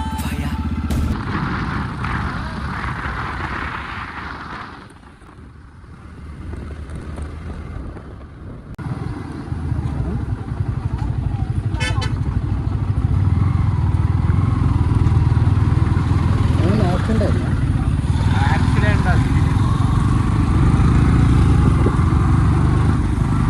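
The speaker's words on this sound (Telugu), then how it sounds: "మన బండి స్టార్ట్ అయిపోయింది" Motorcycle engine running and riding along a road from Hyderabad toward Pallagutta waterfalls, a loud steady drone with heavy wind buffeting on the microphone, easing briefly before building back to a sustained roar.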